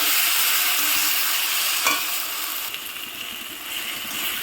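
Spice paste for duck egg curry sizzles steadily in a hot pan, a dense frying hiss with a few soft scraping stirs, close and fairly loud, with no voices.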